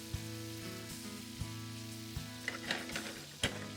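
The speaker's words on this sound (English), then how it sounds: "we're gently gonna kind of cook our prawns on both sides" Prawns and chopped garlic frying in a pan, giving a continuous close sizzle broken by occasional soft knocks and clinks as the food is moved and turned.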